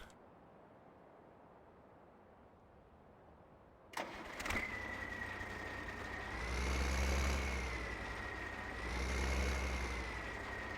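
A tractor engine in Farming Simulator 15 cranks and catches after a quiet start, then settles into a steady idle that swells twice as the revs rise, loud and close, with no talking.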